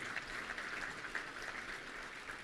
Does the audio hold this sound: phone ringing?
no